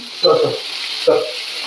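Vegetables frying in oil give a steady sizzle, broken by two short bursts of stirring or spatter.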